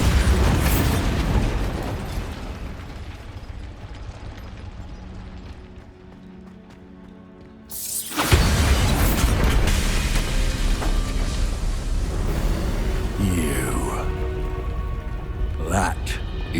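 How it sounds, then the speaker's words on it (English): Bombarda spell explosion in the video game Hogwarts Legacy: after a quieter stretch of rumbling game noise, a sudden loud blast hits, followed by sustained crashing debris and roaring noise with faint voices. "Bombarda!"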